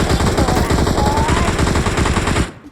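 Sustained automatic gunfire in the battle royale shooter PUBG, a dense, loud burst of rapid shots rattling nonstop for over two seconds before cutting off abruptly.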